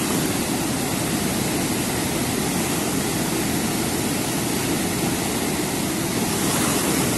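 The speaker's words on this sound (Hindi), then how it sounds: "उफान आप देख सकते हैं गंगा मैया जी में," The swollen Ganges at Uttarkashi in Uttarakhand rushes and surges in a continuous loud roar of churning water that stays steady throughout without pause.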